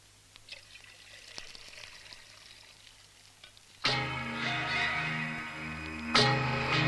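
Tea poured in a Kerala household, a quiet stretch giving way to a sudden loud, steady pour that runs for a few seconds, then a second splash near the end.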